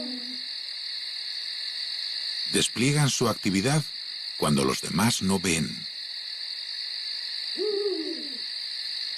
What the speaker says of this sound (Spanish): Aunque los búhos se despiertan ahora.